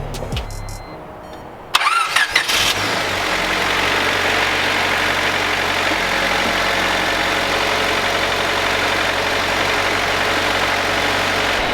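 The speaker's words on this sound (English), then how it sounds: "Let's go and start it up." A Honda Civic with a D16 engine, just fitted with new spark plugs, cranks briefly and catches, then settles into a steady, fairly loud idle that runs alone without talk.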